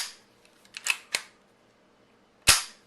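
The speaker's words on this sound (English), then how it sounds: "we're going to go ahead and dry fire this, even though you're not supposed to" A Marlin Model 60 rifle being dry fired: a few small mechanical clicks, then one sharp, crisp metallic snap near the end, close by and otherwise quiet.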